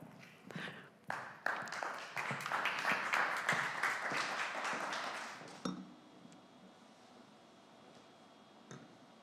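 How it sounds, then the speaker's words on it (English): Audience applause at an artificial intelligence talk event, a burst of clapping that rises quickly, holds steady for several seconds, then cuts off into quiet room tone with a few stray claps. "thanks for the applause"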